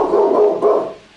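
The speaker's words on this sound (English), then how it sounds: "The dog is pretty hyped about it." A single dog bark heard at close range, a short, full-bodied woof that trails off in about a second, with no talk over it.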